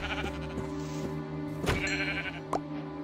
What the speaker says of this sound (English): Sheep! I need your wool.